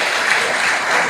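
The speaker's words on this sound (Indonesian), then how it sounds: "Tepuk tangan dong buat Tuhan" Congregation clapping during a church sermon, a brief, even burst of applause filling the room at moderate loudness, no voices over it.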